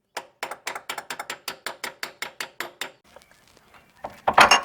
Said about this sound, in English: Now, if we can just get this bolt out of here.